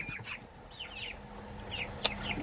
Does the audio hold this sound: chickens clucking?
yes